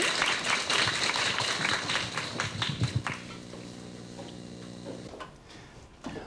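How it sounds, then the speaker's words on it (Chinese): An audience applauds to welcome a guest lecturer in a lecture hall, a moderately loud burst of scattered clapping that thins out and fades after about three seconds into room hum. "那所以我们现在就以掌声来欢迎王老师"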